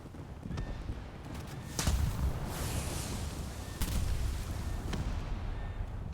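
Battleships trade naval shell fire in a video game, with several heavy booms spaced a second or two apart over a dense rumbling battle background.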